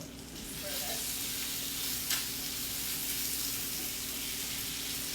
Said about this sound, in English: giving them a good sear and starting the frying process right away